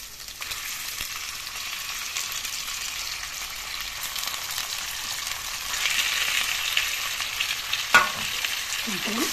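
Chicken pieces frying in a pan with browned onions for a chicken curry with okra, a steady close sizzle with occasional stirring and scraping, no talk.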